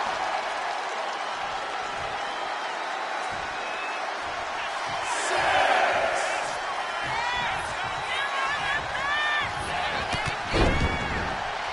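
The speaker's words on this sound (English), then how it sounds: "Cargill drawing a big reaction from the crowd." A video game crowd in WWE 2K25 wrestling swells into a loud cheer midway through the match, with whoops and bursts of applause over a steady arena roar and sharp impact slams.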